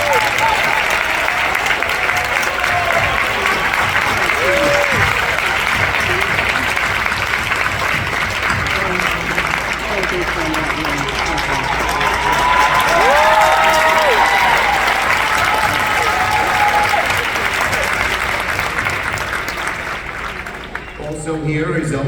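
An audience at a community inauguration in Brooklyn applauds, a dense, steady wash of clapping that goes on for about twenty seconds before starting to fade, with a few voices audible through it.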